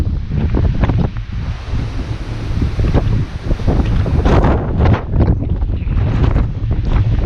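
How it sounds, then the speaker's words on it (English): Strong gusting wind roars over the microphone on a dry, stormy day near water, loud and close with continuous buffeting and surging gusts, no speech. "You can see how hard it's blowing. He's leaning into the wind."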